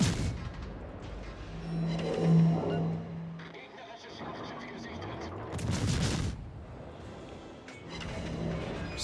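Cruiser main guns firing armour-piercing shells in World of Warships, aboard the German cruiser Mainz, deep booming salvos spaced several seconds apart under steady engine rumble and game sounds.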